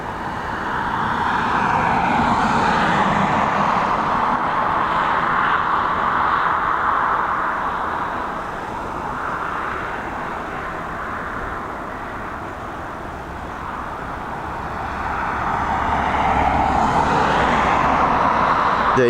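A United Boeing 777 departs Dublin Airport in high winds, its broad jet engine roar swelling, easing off midway, then building again loud and sustained with no voices over it.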